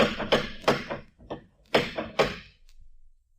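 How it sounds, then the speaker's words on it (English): Series of heavy knocks on a door in an old-time radio drama, two loud clusters of three or four thuds each, close and sharp, separated by a short pause with softer taps, then quiet. "You could have heard that last knock out of the Farallones."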